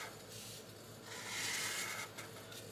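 A chisel-tip marker rubs across paper in soft, continuous strokes, close and faint, with a slightly louder scratchy stretch in the middle.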